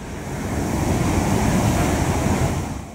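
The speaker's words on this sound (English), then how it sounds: "The waves at Keramas Beach are high enough that you can go surfing if you want to." Ocean waves breaking at Keramas Beach, Bali, a loud continuous wash of surf swelling and fading over a few seconds, with wind rumbling against the microphone and no voices.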